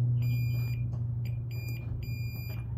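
A multimeter gives a steady continuity beep across the shorted positive and negative rails of a lightning-damaged Klipsch KSW-12 subwoofer board, faint and continuous under low hum.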